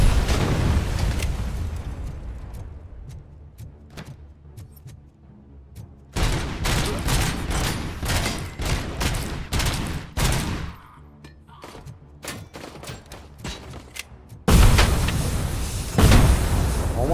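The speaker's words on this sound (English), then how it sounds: "I think I got grenaded." Grenade explosions and gunfire in the first-person shooter RoboCop: Rogue City, loud booming blasts in several bursts, including a heavy cluster near the end, with rapid gunshots between them and no speech.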